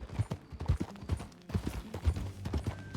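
Horse hooves clip-clopping in Red Dead Redemption 2, a steady walking rhythm of soft irregular hoof beats close by, fairly quiet, with no talk over them.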